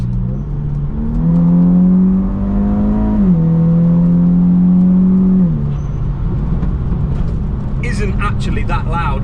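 A VW Scirocco R exhaust heard from inside the cabin while driving: a loud, steady droning engine note that climbs in pitch, holds, dips, then fades out near the end.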